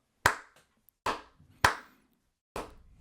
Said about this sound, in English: then you're just clapping